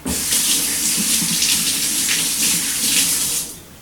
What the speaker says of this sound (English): Let me rinse my hand off real quick.